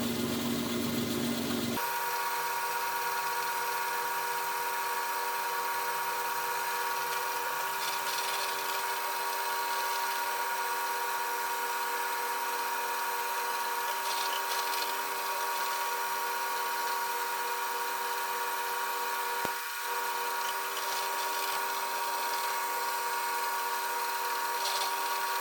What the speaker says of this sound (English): I've drilled some small holes to make a slot